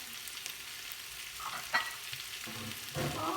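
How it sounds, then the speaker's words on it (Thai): Young pumpkin stir-frying in hot oil, a soft steady sizzle with occasional louder scrapes and stirring clatters, close and fairly quiet. "ฟักทองอ่อนใส่น้ำมัน"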